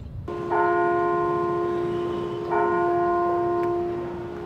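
Cathedral bell tower bell tolling twice, each strike a bright metallic clang with long sustained ringing overtones that hang between strikes, clear and fairly close with no talking.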